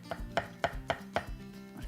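A knife slices through halved mushrooms on a cutting board in five crisp, evenly paced cuts, close and clear with no talking.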